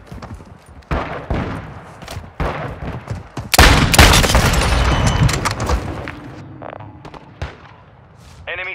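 AK47 gunfire in Call of Duty MW2 multiplayer on the Shoothouse map, with loud close bursts of rapid shots in uneven volleys and a dense sustained stretch of firing, followed by scattered lighter pops and clicks.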